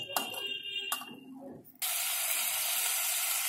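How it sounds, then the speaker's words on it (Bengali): A few soft cooking clinks and stirs, then hot water hits a pan of frying mutton liver with a sudden loud burst of hissing steam that carries on steadily, close by. "দিয়ে দিলাম গরম জল"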